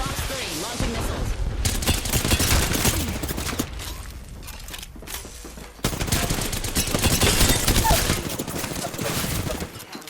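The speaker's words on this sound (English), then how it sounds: "Fox 3, launching missiles." Rapid bursts of video game combat gunfire and missile launches crackle loudly and almost without pause, with a brief dip around the middle before the barrage resumes, and a voice talks intermittently over the din.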